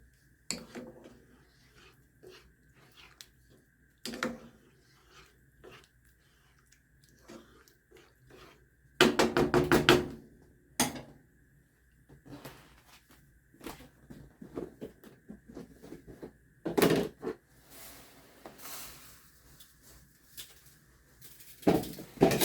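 Rice with a 4-ounce can of diced chilies is stirred in a pot, giving intermittent scraping and clinking spoon strokes against the metal. The strokes come in irregular bursts with quiet gaps between them.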